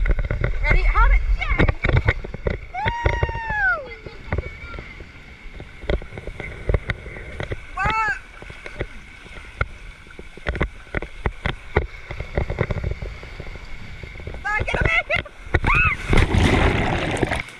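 Splashes and rushing water from a water slide dropping into the water at a Disney cruise island beach, with loud bursts between stretches of wind noise and excited voices and whoops talking over it.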